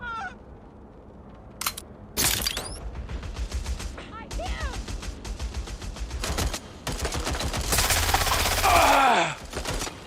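Sustained automatic gunfire in the video game Watch Dogs: Legion, with repeated loud bursts of shots, dense rattling volleys and sharp cracks, plus a few brief voice fragments between the volleys.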